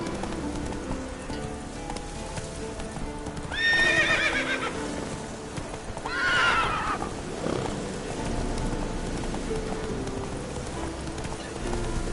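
Roach, Geralt's horse in The Witcher 3, lets out two loud, shrill whinnies a few seconds apart over steady hoof clopping and outdoor ambience with faint birdsong.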